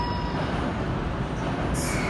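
A JR E353 series limited express train pulls away from a platform at Shinjuku station in a continuous, loud rumble of wheels and motors, close by and without talk.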